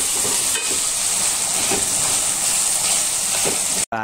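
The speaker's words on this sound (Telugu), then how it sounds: "అల్లం వెల్లుల్లి పేస్ట్ వేసి పచ్చివాసన పోయేంత వరకు" Ginger garlic paste frying in hot oil in a pan for mutton curry, a steady loud sizzle with faint bubbling crackles throughout, cutting off abruptly at the end.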